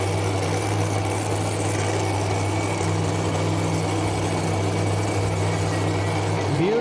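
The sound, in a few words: pulling truck engine idling at truck pull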